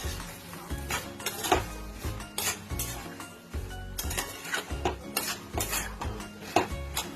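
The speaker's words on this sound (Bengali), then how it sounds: "মাঝখানে বেশ ভালো করে কিমাটা দিয়ে এটাকে কষে নেব।" Minced chicken keema and peas being stirred and pressed in a pan with a metal spatula, steady rhythmic scraping and clinking close up over a faint sizzle, continuing without pause.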